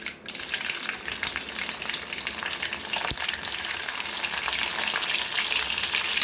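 Garlic dropped into hot oil, where it crackles with a dense, steady sizzle that swells slightly louder toward the end. One sharp click sounds near the middle.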